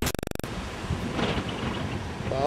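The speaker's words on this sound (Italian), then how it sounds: "Ma onde incredibili," Stormy sea waves break along the coast at Gizzeria Lido, with a continuous roar of surf and strong wind buffeting the microphone, preceded by a short burst of rapid electronic beeps at the start.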